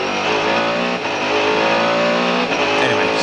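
Mercedes CLR race car at Le Mans 1999, heard on board at speed down the back section of the circuit: a loud, sustained high-revving engine drone with dense harmonics, pitch wavering slightly with brief dips as it pounds along.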